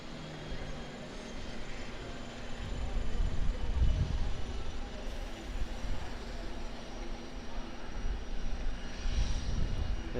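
A Fiji Airways Airbus A350 on short final into Auckland Airport, its broad jet engine rumble steady and fairly close with low swelling roar, no talk over it.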